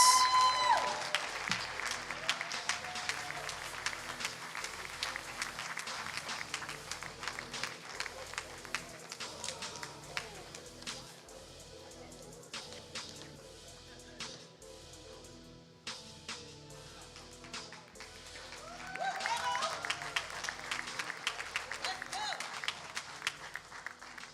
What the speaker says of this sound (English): Can we give another round of applause to all those guys?